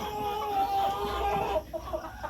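Tiger-breed chickens on a poultry farm in Tangail cluck steadily as a flock, a dense layered chorus of close hens with no talk over it.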